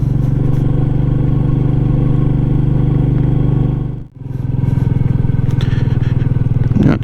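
A Royal Enfield Meteor 350 motorcycle rides along a bumpy road, its single-cylinder engine droning steadily and loudly up close, briefly dipping around the middle before picking back up with a rattly pulse.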